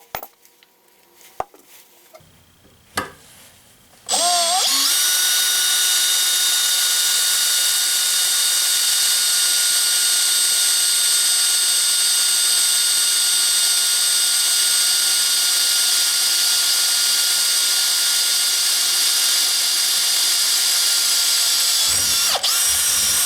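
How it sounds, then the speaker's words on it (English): A Makita XPH07 brushless 18V hammer drill bores a 3/16 inch pilot hole: a few faint clicks and handling bumps, then a loud, steady high whine that runs without a break for about eighteen seconds before cutting off abruptly. "So I have a 3/16 inch drill bit we're going to drill first"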